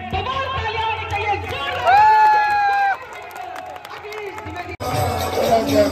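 A lively crowd at a Rang Bhari Ekadashi celebration in the ancient Veni Madhav temple in Prayagraj cheers and shouts loudly, with overlapping voices and excited calls filling the space close by.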